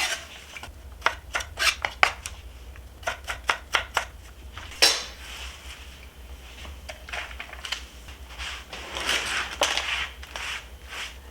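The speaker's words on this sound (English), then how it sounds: "For the broccoli, just cut off the tops." Broccoli tops being cut on a cutting board, a series of sharp knife taps and crisp chops in quick bursts with pauses between, close and moderately quiet, no talking.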